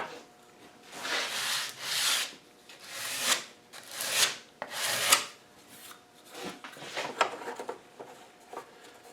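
Rasping file strokes work down raised bits on a wooden heater panel for an Eberspacher Modulator control retrofit: about eight close, scratchy back-and-forth passes in a loose rhythm, with no one speaking.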